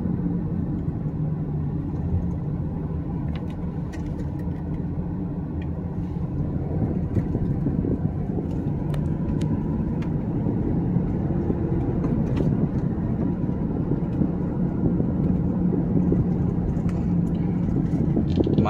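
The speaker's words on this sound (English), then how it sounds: "Second gear, third gear, fourth gear. We're doing 40." A 2003 Infiniti I35 with 86,000 miles accelerates through its gears, heard from inside the cabin as a steady low engine and road rumble that builds slightly and holds without pause.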